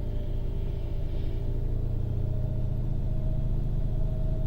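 A 1993 Lincoln Town Car V8 held at a steady 2,500 RPM, producing a continuous, loud, low engine rumble with a constant tone and no speech over it.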